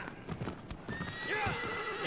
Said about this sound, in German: das ist hier dieses süße Pferd